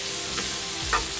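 Papaya vegetables fry in a pan with a constant close sizzle while being stirred, with a couple of brief scraping strokes.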